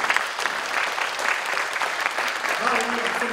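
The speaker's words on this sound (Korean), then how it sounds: "우리 함께 영광의 박수를 한번 드리면 좋겠습니다" A crowd claps steadily and densely at Chongshin University's 120th anniversary ceremony, a loud, continuous wash of applause that holds throughout, with a voice starting to speak near the end.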